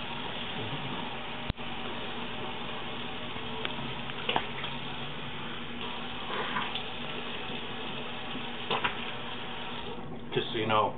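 Steady rushing water from a tap pours continuously, a dense hiss with a few small clinks and bumps near the end.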